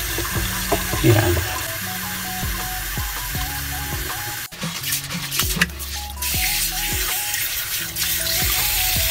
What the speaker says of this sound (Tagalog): Tapos syempre pag tinapon nyo yung tubig, ayan o, walang natatapong butil ng bigas.